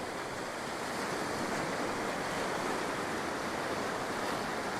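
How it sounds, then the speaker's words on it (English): Waves crash over rocks on a stormy coast, a loud, continuous roar of surf with wind noise and no distinct breaks between breakers. "I'm just timing these waves crashing over the rocks"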